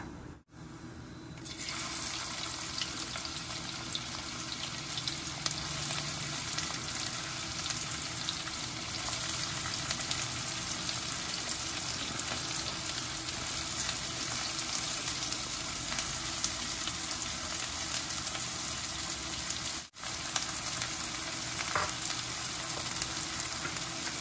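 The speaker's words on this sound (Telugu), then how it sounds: "మన ఉల్లిపాయలు మంచిగా వేగిపోతున్నాయి" Onions fry in a pan after a cumin seed tempering for palak paneer, giving a steady, even sizzle close by that carries on unbroken throughout.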